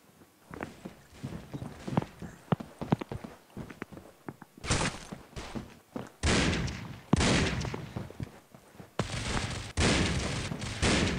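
Gunfire in the mobile shooter Critical Ops: a spread of sharp single shots and short bursts early on, giving way to loud, sustained automatic fire in long dense volleys near the listener, with faint footsteps between.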